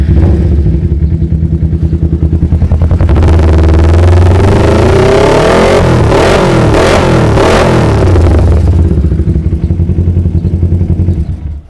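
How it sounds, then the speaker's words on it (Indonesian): A two-cylinder sport motorcycle fitted with a racing exhaust idles loudly and close, then revs up hard through the middle before settling back to a steady, throbbing idle. "Motor ini kita cek sound dulu ya."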